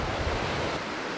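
A river flows as steady broadband water noise with no distinct splashes, rushing evenly and fairly loud throughout with no voices.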